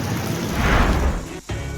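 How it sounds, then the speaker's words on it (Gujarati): Heavy monsoon rain pours down in Kutch, Gujarat, a steady broadband wash with a low rumble swelling in the middle, suggesting thunder, before a brief dip and the downpour's return. "કડાકા ભડાકા સાથે વરસાદ ત્રાટક્યો"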